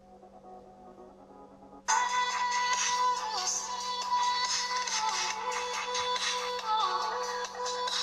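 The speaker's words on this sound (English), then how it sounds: "Now to find a song on this phone." A faint hum gives way to a tinny song playing from a small phone speaker, the melody continuing steadily at moderate volume.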